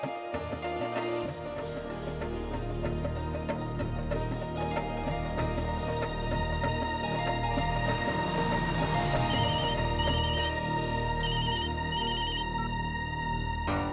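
A telephone rings with a repeating electronic ringtone pattern, heard under a steady backdrop of soft music with no talking, as a call is placed during a domestic drama scene.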